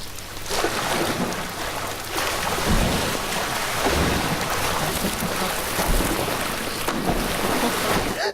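Housemates splash and churn the water of an outdoor swimming pool, a steady broadband wash of sloshing and surging waves that runs continuously and fairly loud, with no voices standing out.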